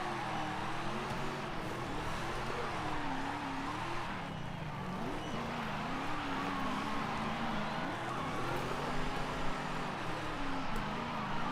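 Mustang drifting in Forza Horizon 5, its engine droning steadily with pitch swinging up and down as the revs change through corners, mixed with a rough tire-scrub texture, continuous and fairly close.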